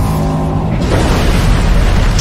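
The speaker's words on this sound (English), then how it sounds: "a huge explosion buckles the hull" A deep, loud boom erupts as an explosion buckles the hull of the warship Hood, rolling into a sustained, roaring blast that fills the whole soundscape.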